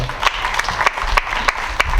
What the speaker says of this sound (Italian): Dai, facciamo un bel applauso a questa